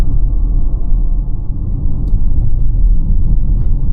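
A Toyota Corolla Hybrid rolls over really broken pavement, heard from inside as a loud, steady low road rumble with faint bumps and knocks from the tyres.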